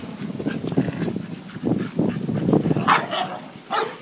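Pit bull kennel dogs barking, repeated close sharp barks and yips in an uneven burst of several dogs, fairly loud and alone without talk.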